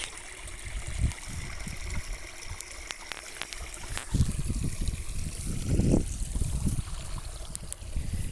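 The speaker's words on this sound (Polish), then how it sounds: "Bardzo fajny, kapitalny strumień fajny jest." A meadow stream flows steadily with soft trickling water, a continuous close wash broken by a few brief louder splashes and rustles, with no talk over it.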